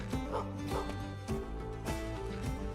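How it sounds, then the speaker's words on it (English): A feral dog barks in Gestalt: Steam and Cinder, several sharp woofs in an uneven rhythm set over a steady bed of game music and ambience, fairly near but not dominant. "Feral dog."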